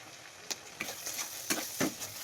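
Turmeric, cumin and coriander powder frying with ginger, garlic and onion in a pan for a Bengali muri ghonto, with a steady soft sizzle and several stirring scrapes at irregular intervals.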